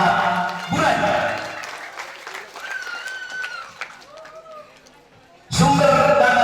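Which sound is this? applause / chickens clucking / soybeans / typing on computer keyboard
applause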